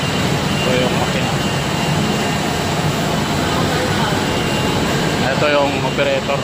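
Plastic zipper making machine running on a factory floor, a dense continuous mechanical whir and clatter with faint tonal whines near the end, loud and steady throughout.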